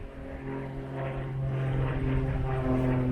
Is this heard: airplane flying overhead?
yes